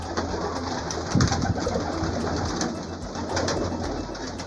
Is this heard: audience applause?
no